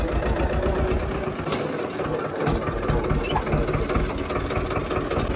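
A tractor engine idles steadily at close range, a continuous rough low rumble with faint mechanical knocking and no speech.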